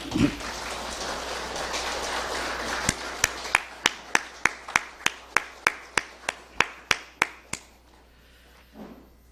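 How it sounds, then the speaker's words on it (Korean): A church congregation applauds in a Korean Sunday worship service, a dense wash of clapping that gives way to a slower run of single loud, evenly spaced claps, about fifteen of them, before fading out. "우리 박수하겠습니다"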